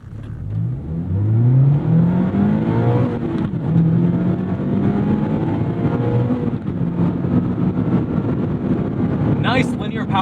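A sports car engine revs hard and climbs steadily through the gears, a loud, sustained roar with rising pitch and brief shifts between.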